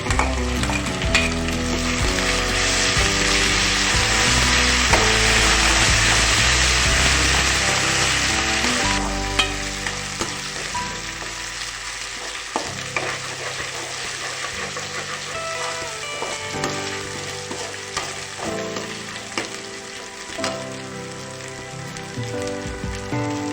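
Garlic paste hits browned onions frying in a pan for a bottle gourd dish, a loud, dense sizzle that eases after several seconds into a quieter crackle broken by occasional stirring clinks, close up.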